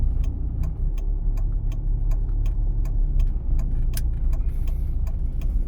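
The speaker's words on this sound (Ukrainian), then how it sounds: "Вмикаємо завчасно правий показчик повороту, надаємо перевагу пішоходу." Car turn signal ticking steadily inside a moving car on a driving-test route in Kryvyi Rih, evenly spaced sharp clicks over a low road and engine rumble.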